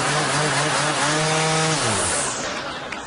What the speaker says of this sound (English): I've been looking for a chance to break in my new weed whacker.